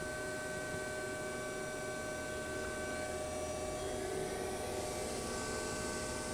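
An Okuma Howa ACT-35 CNC lathe spindle spins at 2000 RPM, giving a steady, even whir with tonal hum, continuous and unbroken at moderate level.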